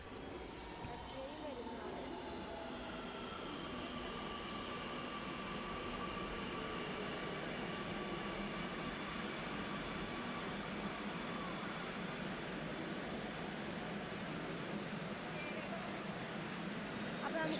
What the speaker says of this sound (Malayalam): അപ്പോൾ ട്രെയിൻ വന്നിട്ടുണ്ട്, ഞാൻ നിങ്ങൾക്ക് ട്രെയിൻ കാണിച്ചു തരാം.